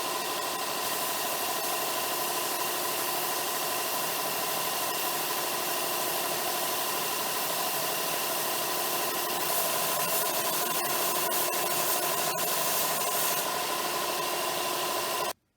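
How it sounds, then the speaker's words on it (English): A hard edge of a homemade wooden Halloween mace being sanded smooth: a constant, fairly quiet abrasive rushing hiss with a motor-like hum underneath, running steadily for about fifteen seconds before stopping abruptly. "I'm going to sand this hard edge down a little bit, just so it's a little more rounded."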